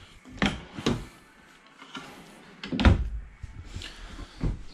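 Kitchen drawers in a 2020 Grand Design Imagine 2670MK travel trailer slide open and shut several times, with distinct wooden thuds and soft rolling glides, close and uncovered.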